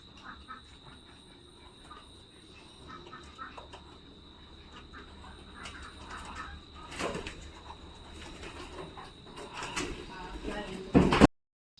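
Pigeons overhead at a rural home coo faintly and flutter and clatter, with a couple of louder bursts near the end, while people talk nearby.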